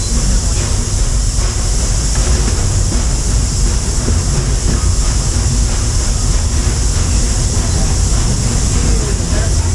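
The Walt Disney World Railroad train runs through the Magic Kingdom with a loud, continuous rumble and rattle of rolling cars, heard close from on board with a steady mechanical drone and no voices.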